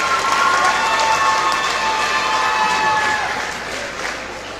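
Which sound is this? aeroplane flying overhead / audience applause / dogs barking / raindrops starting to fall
audience applause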